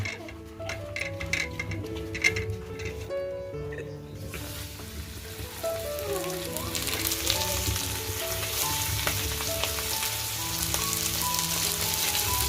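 Marinated mackerel frying in oil in a pan, a dense continuous sizzle that swells louder partway through, with scattered ticks and clinks over steady crackling.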